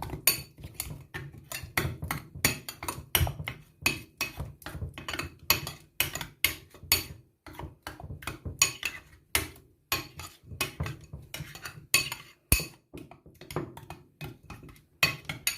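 Papaya face pack with turmeric mixed briskly in a bowl, a long run of rapid, close clinking and tapping of a spoon against the bowl's sides.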